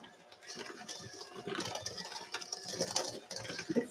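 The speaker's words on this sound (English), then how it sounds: "I can do it with the mixer." An electric mixer creams soft butter in a metal bowl for a white fruit cake, giving a steady, moderately quiet mechanical whir with rattling, clattering texture throughout.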